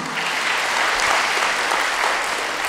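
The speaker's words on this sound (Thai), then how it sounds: "ทุกท่านในห้องนี้ปรบมือดังๆให้กับทุกท่านค่ะ" A full audience in a hall bursts into loud, sustained applause, a dense wash of many hands clapping together with no pauses.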